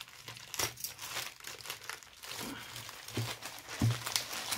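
Polythene packaging from a Lenovo Tab M10 HD tablet unboxing crumpled by hand, giving a close, continuous crinkling and rustling with a few sharper crackles, no talk.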